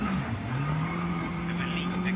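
A rally car runs a shakedown stage, its engine a steady sustained drone with a rising pitch sweep early on, heard under commentary voices throughout.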